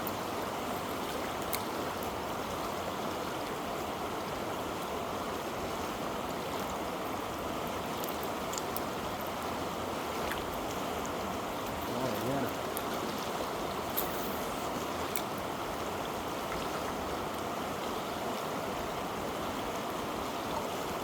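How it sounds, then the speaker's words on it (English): Fast-moving stream water at a fish hatchery rushes in a steady, dense wash, close and continuous throughout with no voices. "But the water's moving faster here."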